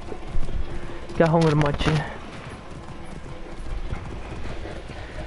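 Horse hooves clop in a steady rhythm while riding in Assassin's Creed Origins, loud and near for about a second and then fading, with someone talking over most of it.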